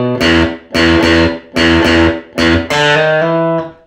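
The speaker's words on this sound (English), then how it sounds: "Now, the main riff is built off of these low bass notes" Electric guitar plays the choppy main riff on low E bass notes, loud and close, in short punchy stabs separated by brief gaps before a longer sustained chord.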